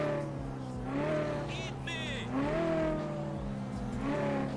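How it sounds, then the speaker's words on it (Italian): Motorbike engine in GTA 5 revving and shifting through gears, harmonic pitch rising and falling in steady sweeps with a brief squeal, close and continuous with no talk. "Prendi pure la tua moto e seguimi."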